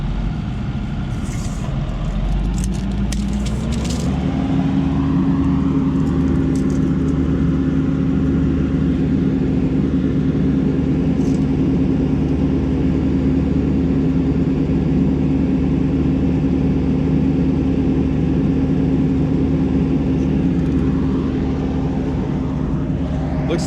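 A tractor pulls a ripper through a field, its engine droning loud and steady at close range, settling into a sustained humming tone after a few seconds and holding it for over twenty seconds.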